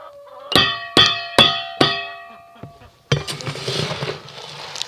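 A metal saucepan scooping dry rabbit feed pellets: four sharp ringing clinks in a row, then a rattling, pattering rush of small hard bits.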